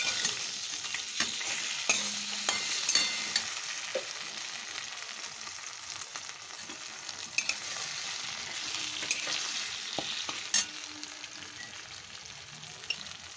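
Ginger paste fries steadily in a pan for a vegetarian cauliflower dum, a continuous close sizzle broken by repeated scraping stirs and occasional spoon taps against the metal.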